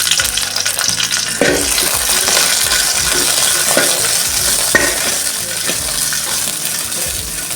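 Fifteen red chillies fry in coconut oil for a coastal-style sambar, a loud, continuous close-up sizzle with occasional spoon knocks and stirring scrapes, no talking.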